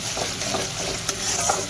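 Green chilli paste and garlic paste sizzle and sputter in a pan as they are stirred for a fish curry, a loud continuous close-up frying hiss with faint scraping and no voices.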